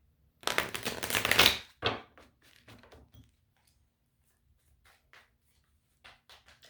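Tarot cards shuffled in a quick, close riffling burst, followed by softer scattered taps and slides as cards are drawn and laid down, then quiet.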